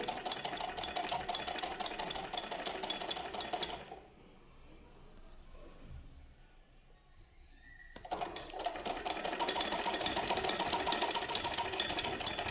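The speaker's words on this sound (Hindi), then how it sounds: "फिर उसके बाद हम इस तरह ही पूरा प्रॉपर सिलाई पर ही सिलाई चलाएंगे जैसे हमने सिलाई करी है।" Close sewing machine stitching along a sleeve seam runs steadily, breaks off for a few seconds of near quiet, then starts again and continues.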